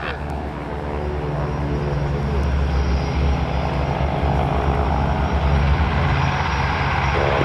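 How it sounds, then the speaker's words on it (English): A B-25 bomber's piston engines roar through its takeoff roll at an airshow warbird review, a loud, steady, rumbling drone close by that holds strong and even throughout. "here's the B-25 on the takeoff roll"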